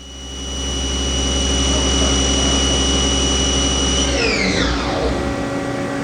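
Haas ST-10 CNC turning center spindle running steadily at 4,000 RPM, a loud continuous whine with a low hum that holds for about four seconds, then begins spinning down with a falling pitch.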